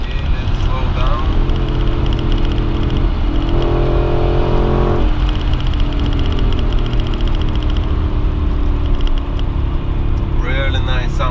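Audi Allroad 4.2 C5 V8 engine revving up toward high RPM, heard from the cabin with the windows closed: a steady, loud engine drone that rises and falls through the whole stretch, with faint talk mixed in.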